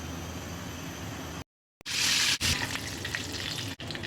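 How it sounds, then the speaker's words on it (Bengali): Egg-coated chicken pieces dropped into hot oil burst into a loud, dense sizzle after a moment of silence, the crackling staying strong and close with a brief dip partway through. "এখন ডিমে দিয়ে দেব, আবার কোট করব, দেব গরম তেলে।"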